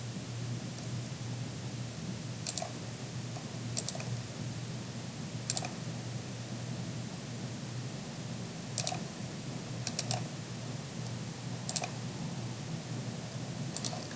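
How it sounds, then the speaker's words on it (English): Computer mouse clicked again and again to place points for angle measurements in software, heard as sparse, sharp clicks, some single and some in quick pairs, over a steady low hum in a quiet room. "all I'm doing is clicking 3 points so it'll give me the angle measurements"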